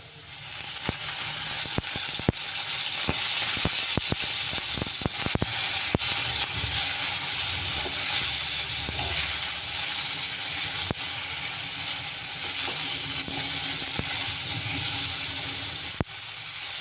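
Tomatoes fry in oil in a pan for a soya chunk gravy made with green chillies, giving a loud, constant close sizzle with scattered crackles and pops and no talking.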